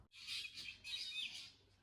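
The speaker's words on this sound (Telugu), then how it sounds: "పక్షులు భలే అరుస్తున్నాయన్నా" Bright, high bird calls in dense forest near a tribal village, in two bursts, fairly faint and a little distant, with quiet gaps between them.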